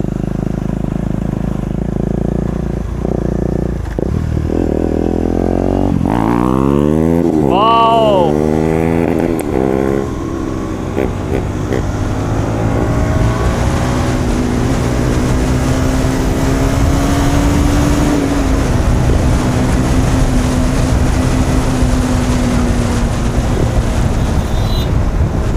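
KTM Duke and RC 200 motorcycles race on a track, their engines rising and falling in loud, wind-buffeted passes with rapid revving sweeps, and a voice talks over the roar at times.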